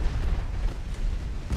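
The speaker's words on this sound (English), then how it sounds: "Torpedo detonation." A torpedo detonation in a naval warfare video game rumbles as one heavy, sustained low boom that fills the whole short stretch, thick and muffled with no talk over it.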